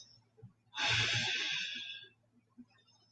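A single forceful breath, held for over a second during a yoga side plank, rushes out close and loud against quiet surroundings.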